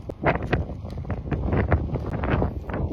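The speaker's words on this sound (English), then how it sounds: "it is a very blustery day" Blustery March wind buffets the microphone outdoors near Chicago at the start of a bicycle ride, a steady low rumbling roar with gusty swells filling the whole clip.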